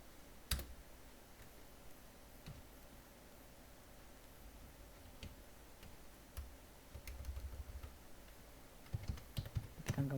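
Computer keyboard keys clicking steadily while Cisco Packet Tracer commands are typed to configure a Fast Ethernet interface, with scattered close taps and a quicker burst of keystrokes near the end over a faint room hiss.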